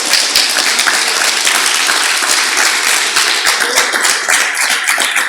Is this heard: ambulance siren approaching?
no